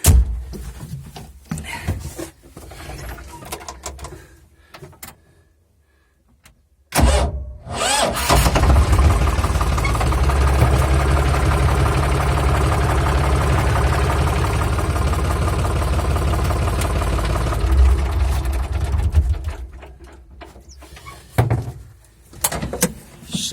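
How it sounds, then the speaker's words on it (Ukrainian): A 2007 Foton 404 tractor engine cranks, catches with a loud burst and settles into a steady, close idle running about twelve seconds before easing off, with clunks and handling noises around it. "хочу завести, показати, як заводиться, як який викид диму з труби"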